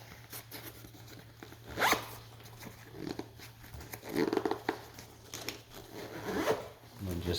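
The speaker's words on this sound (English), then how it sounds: "Zip that up from this side." A zipper is pulled closed on a costume in several short rasping strokes, moderately close, with low handling noise and faint background sounds between pulls.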